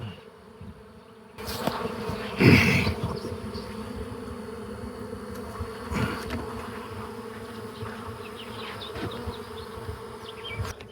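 Steady droning buzz of many honey bees in a container during a mite test, close and continuous, with a brief louder swell early on as the hum fills the space.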